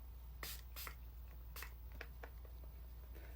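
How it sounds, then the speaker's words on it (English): A makeup setting spray is pumped onto a face, several short, breathy hissing bursts in an uneven rhythm, close and soft over a low background hum. "setting spray."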